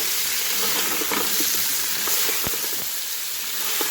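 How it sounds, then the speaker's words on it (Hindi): Tomatoes and green chilies sizzle and fry in a pan for a pulao, a steady close hiss with occasional stirring scrapes and clicks, no voices. "इसके साथ जब हम ऐड करेंगे टमाटर और सब्ज़ मिर्चें, ये भी डालकर अच्छी तरह से भून लें"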